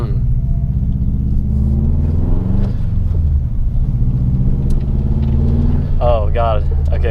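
A Subaru car engine revs under throttle while driving, a steady close rumble rising in pitch inside the cabin, with people talking over it.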